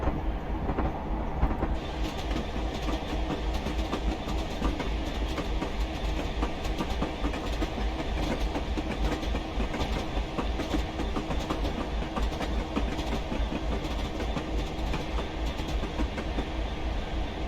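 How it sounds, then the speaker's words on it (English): A Class 66 diesel locomotive runs steadily in Train Simulator Classic on the approach to Lowestoft station under a 10 mph limit, with a continuous low rumble and faint wheel clatter, close and even throughout with no talk. "we have a 10 mph speed limit as we are going into Lowestoft station"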